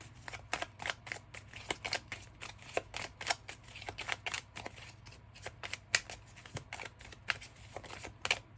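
Tarot cards are shuffled close up, with quiet, quick riffles and taps repeating in an irregular rhythm for several seconds.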